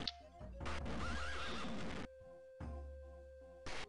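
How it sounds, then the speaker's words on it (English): A horse in the video game The Elder Scrolls: Daggerfall whinnies loudly and shakily, followed by a second, shorter neigh, over a steady background hum. "there's other fucking horses that are making noise too"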